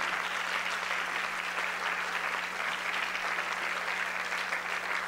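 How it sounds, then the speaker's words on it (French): A crowd applauds steadily throughout at a concert opening event with musicians, dense and sustained clapping with no talk over it. "Oui, on peut les applaudir."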